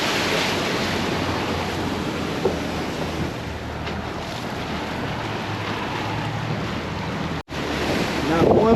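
Wind and surf at the Islamorada sandbar during a storm on a cold day, a constant roaring wash of waves and heavy wind buffeting the microphone, with one brief dropout near the end.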